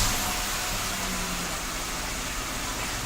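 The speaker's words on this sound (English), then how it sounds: "This will also trigger the remote starter to start the vehicle." A 2012 Jeep Wrangler engine, started by a remote starter, runs with a steady broadband rumble that stays level and fairly loud from start to finish, without any talk.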